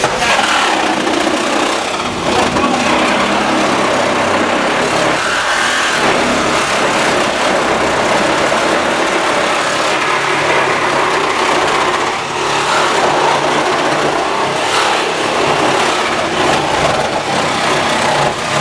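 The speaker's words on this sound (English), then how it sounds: "This is the new generation hydraulic cutter. You notice it's going through the 980 steel that's connected." A new-generation hydraulic rescue cutter slicing through 980 steel on a vehicle during an extrication demo, a loud continuous mechanical whine and grinding roar that holds steady throughout, with no voices.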